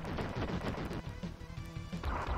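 Rapid bursts of gunfire and impacts from the arcade shooter Wild Guns, dense and continuous with crashing hits throughout, close and loud with no talk over it.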